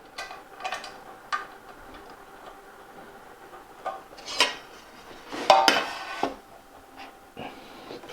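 Metallic clicks, rattles and a ratcheting scrape come from a knob being tightened on a Festool CMS compact modular system rail, in close, irregular bursts with quiet pauses between them and no talking.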